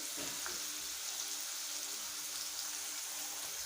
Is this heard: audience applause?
no